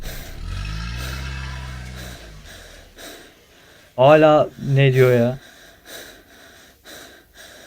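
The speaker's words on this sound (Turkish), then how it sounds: "Aynen abi nefes nefese." Heavy, ragged panting from a Minecraft horror-map player gasping for breath, with loud, rapid bursts of breathing close to the mic and short stretches of talk before and after.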